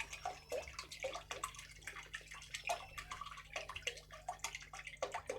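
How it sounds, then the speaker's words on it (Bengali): Water is poured close by into a pot of milk for carrot halwa, a continuous splashing, gurgling stream heard alone. "আর 500 দুধে আমি 500 জল দেব।"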